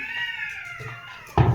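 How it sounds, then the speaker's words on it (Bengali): A single drawn-out cat meow from outside, falling in pitch, followed by a short muffled knock. "বিড়ালগুলো খুব ডিস্টার্ব করছে বাইরে বিড়ালগুলোর কাঁদছে"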